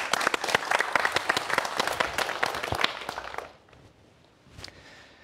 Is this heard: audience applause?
yes